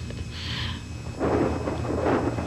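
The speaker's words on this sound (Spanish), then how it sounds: "Escuchen esos truenos." Thunder during a storm, a low rumbling roll that swells and continues at moderate loudness, with a faint hiss before it, and no talking.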